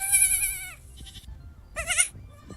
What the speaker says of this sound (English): Baby goats.